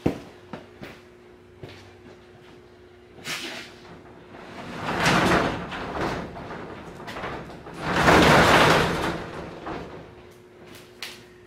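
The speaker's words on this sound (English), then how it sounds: "Let's open this door so we don't kill ourselves." A few light clicks and knocks, then a sliding door rumbles and scrapes open in two heavy surges before quieting.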